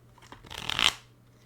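Plastic playing cards, Bicycle Prestige or washable decks, riffle-shuffled close up: a quick rising flutter of snapping card edges that builds over about half a second, then stops.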